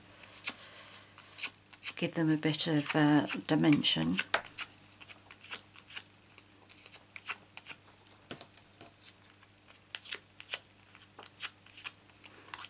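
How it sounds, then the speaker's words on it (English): Cardstock leaves for a handbag-shaped tissue box are curled around a pencil, giving soft papery scrapes and rustles with small ticking clicks. Someone talks briefly at the start, then the close, quiet crinkling carries on alone. "I'm just going to give them a little bit of a curl around my pencil"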